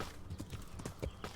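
Horse hooves clip-clop at a steady trot during a ride in the medieval video game Kingdom Come: Deliverance, the thuds fairly close and rhythmic, with no talk over them.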